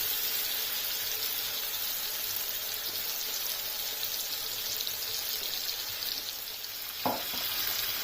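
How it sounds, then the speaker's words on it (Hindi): Fish shallow frying in oil on a tawa gives a loud, steady, close sizzle that runs unbroken throughout, with one brief knock near the end. "ये देखें, बहुत ज़बरदस्त फिश शैलो फ्राई हो रही है।"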